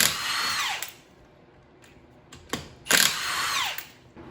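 Power tool spinning wheel nuts off a 2006 Subaru Legacy GT with a 19 mm socket: two loud whirring bursts with winding-down pitch, separated by short clicks and a quiet gap, no talk.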